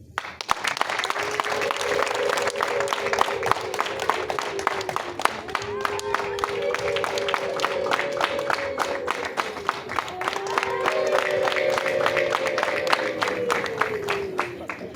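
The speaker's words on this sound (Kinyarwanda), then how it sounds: "Bakumpera amashyi aho mwagendanye" Guests at a Rwandan wedding applaud in a sustained, dense round of clapping lasting throughout, with a rhythmic musical tone and a voice running faintly underneath.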